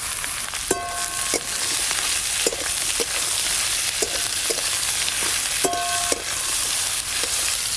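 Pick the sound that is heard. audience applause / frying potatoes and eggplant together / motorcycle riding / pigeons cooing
frying potatoes and eggplant together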